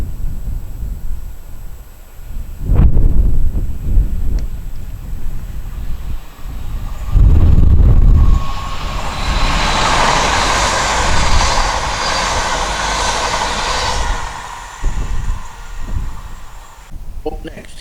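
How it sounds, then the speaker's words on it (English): TransPennine Express Nova 1 train 802207 on the East Coast Main Line passing at speed, a rising rush and roar of wheels and wind that swells loud midway then fades, with someone talking over the start. "Transpennine Express Nova 1 802207 with a Newcastle Liverpool Lime Street service."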